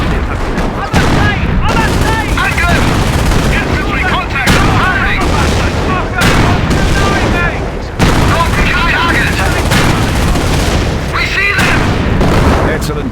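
A World War II battle in the real-time strategy game Company of Heroes, with loud, continuous rifle and machine-gun fire and booming explosions, under clipped in-game voice commands.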